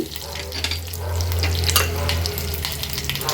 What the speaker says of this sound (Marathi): कढीपत्त्याची पानं फोडणीला घालूया कढीपत्ता थोडा तडतडला